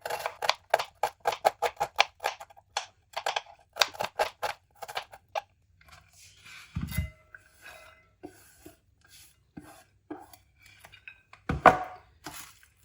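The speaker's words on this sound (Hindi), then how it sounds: "अब इनकी कटिंग करेंगे, ऐसे आपने इनको काट लेना है।" Rapid, regular knife chops on a cutting board in quick bursts, then sparser cuts and light handling noises, close and crisp.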